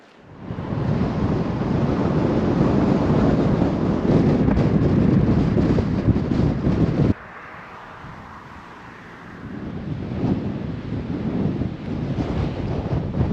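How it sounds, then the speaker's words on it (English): Strong Patagonian wind along Ruta 40 in Argentina buffets the microphone in loud roaring gusts, drops abruptly to a quieter hiss midway, then builds again. "The region is really famous for this wind, and we're experiencing it firsthand"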